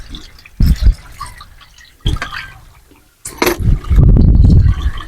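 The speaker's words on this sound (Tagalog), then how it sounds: "Lumubas yung tubig." Water gushing out through the valve of a pressure tank whose rubber bladder has failed, coming in loud splashing bursts that stop and start, then settling into a steady heavy flow.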